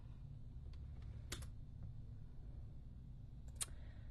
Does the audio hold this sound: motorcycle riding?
no